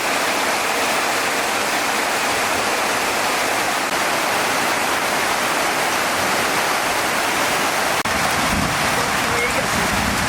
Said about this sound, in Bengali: আমাদের ভিডিওর ভিতরে প্রচুর বৃষ্টি নামছে